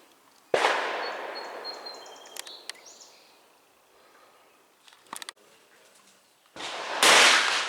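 An M-1 rifle fires 150-grain PPU flat base rounds outdoors: one sharp, loud report near the start with a trailing echo, faint scattered sounds in between, and a second heavy blast near the end.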